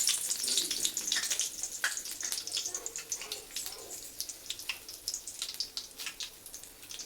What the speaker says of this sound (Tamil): எண்ணெய் ஊற்றியாச்சு கோவக்காய் பொரியலுக்கு